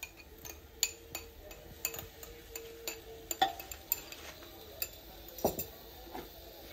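A spoon stirring chicken masala with yogurt in a pot, giving light irregular metallic taps and clinks against the pot, close and fairly quiet.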